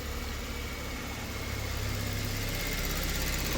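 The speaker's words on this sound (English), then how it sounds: "Can hear that pump going again." Steady mechanical hum and whir of a Kia Stinger fuel pump running, a low fuel pressure fault on this car, under a constant idling engine, close and continuous with no voices.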